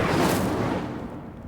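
Incendio fire spell cast in the Hogwarts Legacy video game, a loud, booming whoosh of flame that bursts at once and then fades out over about a second and a half.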